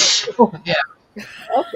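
A single sharp sneeze from one person right at the start, close to the mic and loud, and then someone speaks briefly in a casual tone.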